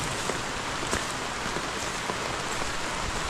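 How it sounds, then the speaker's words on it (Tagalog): Heavy rain pours steadily on a farm among coconut and banana trees, a dense, loud, even hiss with scattered droplet taps throughout and no voices. "Ang lakas na po ng ulan oh."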